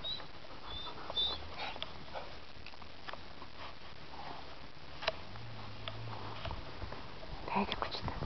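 Dogs sniffing around up close, with short nasal snuffles, faint whimpers and light pattering movement, while a person talks quietly nearby.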